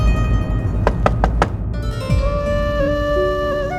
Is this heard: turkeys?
no